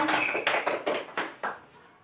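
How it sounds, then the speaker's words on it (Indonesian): Brief scattered claps from a small classroom group of students, a handful of separate sharp bursts over about a second and a half that fade quickly, with no talking. "Tepuk tangan untuk Mbak Fia."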